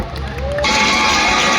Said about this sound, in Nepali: एकचोटि जोरदार ताली बजाइदिनु होला सम्पूर्णले।